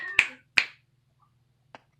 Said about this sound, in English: I think you snap your fingers or something.